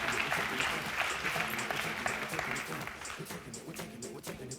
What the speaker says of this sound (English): Give her a round of beautiful applause.